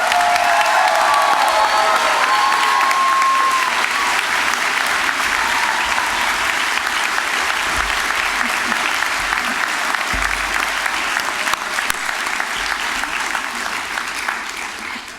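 An audience at a university spring convocation applauds its graduates in a long, steady wash of clapping, with light cheering and a few faint voices mixed in.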